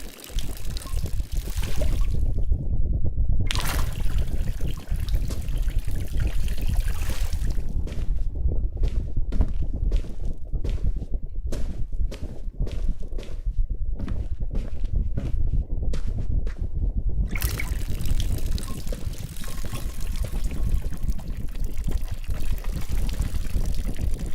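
Plants being watered indoors in an apartment, a steady stream of water pouring with a continuous splashing hiss, broken by a few brief gaps and a run of rapid drips in the middle.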